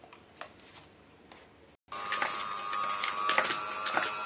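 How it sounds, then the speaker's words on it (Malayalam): An electric mixer beats butter with powdered sugar, starting after a quiet stretch of faint ticks and a short silence, then whirring loudly and steadily with a bright mechanical buzz. "പൗഡർഡ് ഷുഗറും ബട്ടറും കൂടെ ബീറ്റ് ചെയ്യുകയാണ്"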